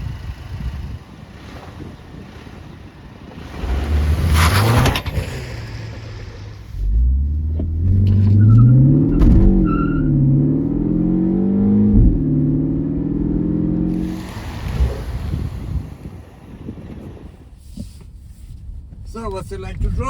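A 2025 Mini Cooper JCW three-door, a front-wheel-drive hot hatch with a seven-speed dual-clutch gearbox, revs hard while driving, its engine note climbing and stepping through gear changes amid wind noise, with a voice speaking around it.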